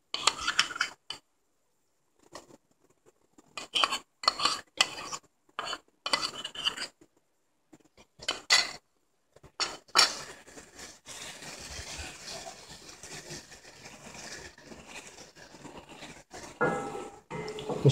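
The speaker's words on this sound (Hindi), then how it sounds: "इसको भून लेंगे अच्छी तरह से" A spoon or spatula scrapes and clatters in a pan while ginger-garlic paste is fried with softened onions, giving quiet intermittent rasping strokes with short gaps, then a denser steady stretch of stirring, with no talk.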